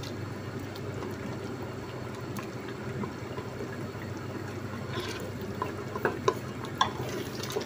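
Mutton for a palak gosht dish cooks in a pot on high heat as its water is dried off, with a steady low sizzle and bubbling and a few sharp spoon-against-pot scrapes and clinks near the end.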